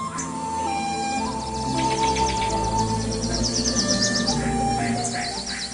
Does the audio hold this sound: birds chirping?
yes